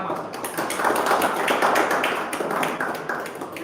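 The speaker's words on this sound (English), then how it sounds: "So with a thunderous round of applause" A Toastmasters club meeting audience claps together in a dense, steady patter of many hands, close and continuous for a few seconds.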